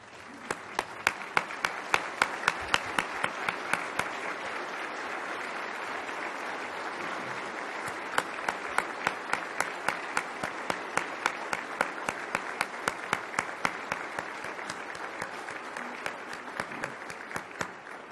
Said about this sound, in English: I'd like us to give a big round of applause for our community leaders to say thank you